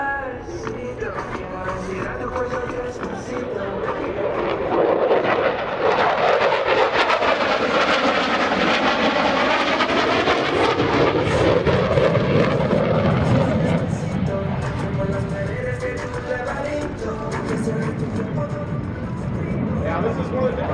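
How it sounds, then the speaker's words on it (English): An F-16CJ Fighting Falcon fighter jet roars through a demonstration at a naval air station airshow, a loud continuous engine rush rising and sweeping in pitch as it passes, with a commentator's voice over the noise. "He's now setting up for a second high-speed pass"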